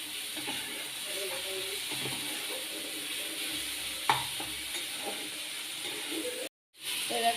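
Spiced masala for a Bengali biryani sizzling and frying in a pan, a soft continuous hiss with occasional scraping stirs and small clinks, fairly quiet, cut by a brief silent gap near the end.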